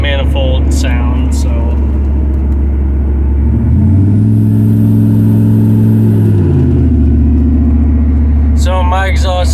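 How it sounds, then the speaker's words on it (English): A 6.5L diesel's exhaust, freshly fitted with a new manifold gasket, rumbles at a steady idle, then swells into a loud rev for a couple of seconds before settling back, with voices talking briefly at the start and end. "So my exhaust is back to being as loud as it should be."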